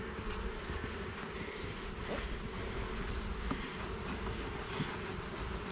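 A dense, steady buzz of many honeybees around an open hive during a hive inspection fills the air, close and continuous, with no voices.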